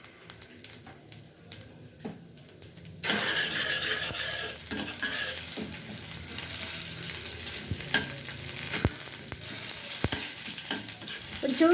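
Urad dal drops into hot oil in a pan while masala dosa filling is prepared, bursting into a loud steady sizzle after a few seconds of quiet clinking, with a spoon stirring close by.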